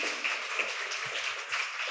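An audience applauds at a business talk on AI for tourism companies, a soft, continuous patter of many hands clapping at a moderate distance.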